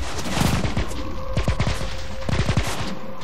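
Rapid bursts of automatic gunfire in the blocky multiplayer shooter video game Minimum, loud and dense with sharp repeated shots in clusters over continuous game noise.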